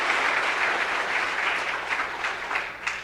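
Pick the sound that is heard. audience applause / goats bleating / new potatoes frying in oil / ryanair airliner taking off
audience applause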